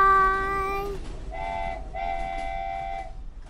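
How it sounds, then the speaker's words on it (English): A toy train's horn toots in two distinct blasts, loud and close, with a faint rumble underneath and no talking. "Chugga, chugga. Chugga, chugga. Choo-choo."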